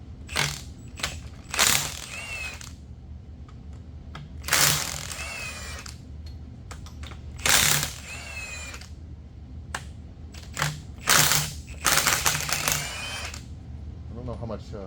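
A power tool zips rocker bolts off the cylinder head of a Pontiac 400 engine in a Pontiac LeMans. Several short, loud mechanical bursts come in repeated spurts, with quiet gaps between them.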